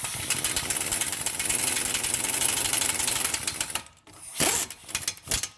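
A power tool spins up a brake caliper bolt on a 2019 Infiniti QX60 during a pad and rotor job, a loud, fast buzzing rattle that runs steadily for about four seconds, then stops, followed by a couple of short bursts.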